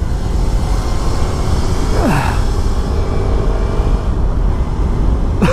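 A motorcycle ride recorded from a Ruroc Atlas helmet camera: steady engine drone and wind rumble run throughout, with a brief rising whine near the middle.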